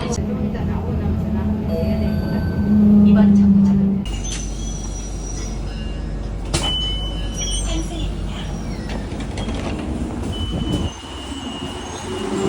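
A public transport ride in Korea fills the clip with a steady rumble and rolling noise from a train or metro car, plus an occasional squeal. People talk over it.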